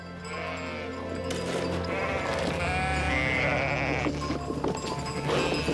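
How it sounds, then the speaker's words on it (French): A flock of 146 ewes, most of them pregnant, bleat in the production unit of a clinic, many overlapping calls, loud and close against a continuous barn din. "Il y a là 146 brebis."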